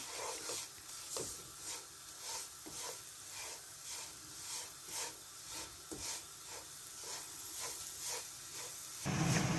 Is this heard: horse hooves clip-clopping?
no